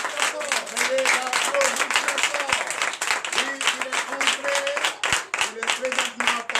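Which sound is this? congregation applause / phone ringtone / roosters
congregation applause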